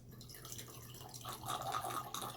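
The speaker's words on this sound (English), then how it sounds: "I'm going to pour some just so you can kind of hear, because it's going to make like a gurgling sound" Red wine, a La Source, is poured through an aerator and makes a close, continuous gurgling and bubbling that swells toward the end, with no one talking.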